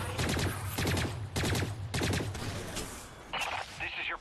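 Bursts of automatic gunfire from flying, shooting antibodies in the video game Lost Planet 3, coming in repeated rapid volleys roughly every half second, followed by a couple of higher-pitched electronic blasts near the end.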